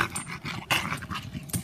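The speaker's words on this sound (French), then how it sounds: "il va mettre un premier coup de dent sur la longe" A Belgian Malinois growls and snarls while biting at a lunge line, close and gritty, with rough bursts and short snaps over a brief span.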